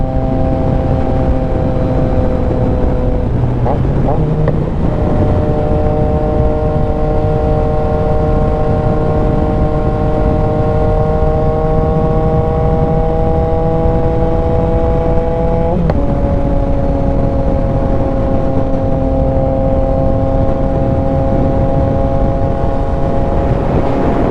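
A Yamaha XSR900 motorcycle cruising on long straight roads, its engine droning loudly and continuously with steady tones that shift slightly as the rider changes speed, under heavy wind noise, with no talking.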